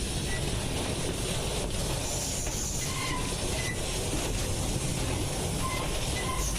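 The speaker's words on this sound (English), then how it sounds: "the driver fully applies the independent brake, making the loco stop" Standard class 4 steam locomotive 75069 on the Severn Valley Railway brakes to a stop, a steady hiss of air and rolling rumble heard from the cab, with faint squeals over the continuous noise.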